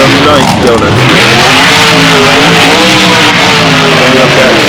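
A monster truck in the BeamNG driving game revs hard while spinning donuts, its engine a loud, continuous droning roar with shifting pitch and tire scrubbing layered underneath.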